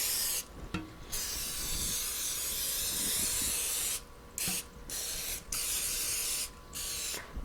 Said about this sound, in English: And I'm going to give it a generous spray.